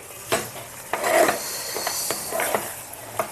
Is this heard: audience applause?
no